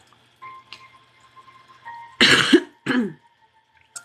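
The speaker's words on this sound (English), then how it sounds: "I might have to cough a little bit tonight." Two rough, close coughs break a quiet room, one sharp burst followed by a shorter second cough, with faint background hum.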